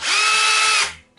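A Black+Decker BCD700S 18V cordless combi drill spins up at its lower speed setting, a steady loud whine lasting under a second before it cuts off.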